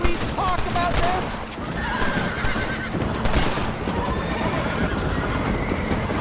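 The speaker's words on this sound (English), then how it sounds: "All these horses with no owners." Horses in the video game Red Dead Redemption whinny and neigh loudly up close, with clip-clopping hooves and bursts of gunfire-like cracks in the mix.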